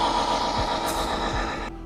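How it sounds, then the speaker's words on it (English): A robotic vehicle's drive motor runs steadily during a self-test, giving a loud continuous mechanical whirr with a brief rising whine near the middle that cuts off abruptly at the end. "Driving engine."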